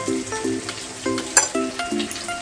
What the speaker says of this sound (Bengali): আবার একটু ভালো করে মিশিয়ে নেব